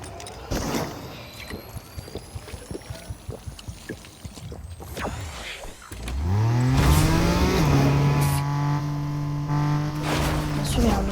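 A car in a video game revs up and accelerates hard, its rising engine whine starting midway and holding loud and steady, after a stretch of rapid clicking and game noise.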